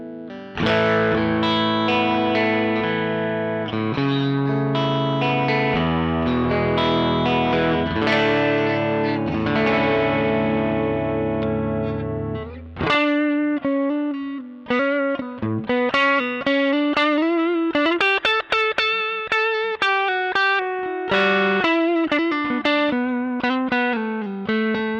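A Strymon Sunset overdrive pedal driving a Telecaster's single-coil pickups: loud, continuous driven guitar, with sustained chords first, then a busier run of picked single notes and riffs, nothing else in the mix.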